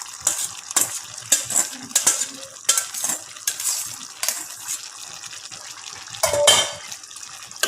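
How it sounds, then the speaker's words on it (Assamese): Potatoes and boiled taro are stirred in a metal pot, with a spoon scraping and clinking in irregular, close strokes and a soft wet sloshing between them. "আৰু এইখিনি ভালদৰে এতিয়া লৰাই দিম।"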